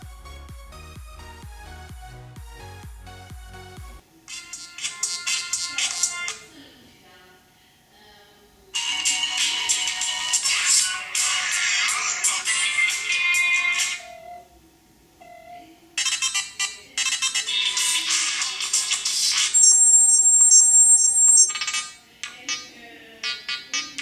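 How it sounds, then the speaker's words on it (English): Ringtones from a Zeblaze THOR 3G smartwatch speaker play one after another, bright electronic melodies and repeating tone patterns with short silent gaps between them, heard alone with no talking. "And now let's hear the quality of the ringtones."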